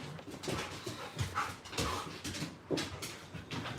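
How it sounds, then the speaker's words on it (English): Dogs at a family gathering panting in quick bursts with thin whimpers mixed in, close and moderately quiet, the breathy rhythm rising and falling over a few seconds with no talk. "This is the dogs."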